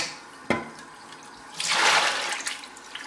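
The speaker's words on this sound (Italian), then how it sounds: "Butto tutta l'acqua." Soaking water poured out of a pot of chickpeas into a sink, a short splash followed by a rushing gush of draining water, close and alone.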